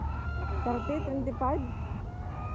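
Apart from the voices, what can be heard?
chickens clucking at a market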